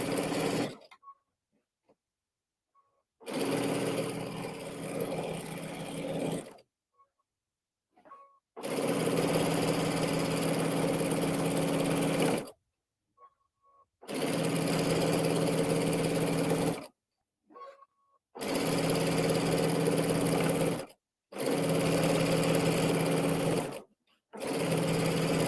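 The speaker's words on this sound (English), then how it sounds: "and now I'm going to sew." A sewing machine runs a quarter-inch topstitch around a pillow, driven by a foot pedal: five long whirring runs of several seconds each, close and steady, separated by short silences.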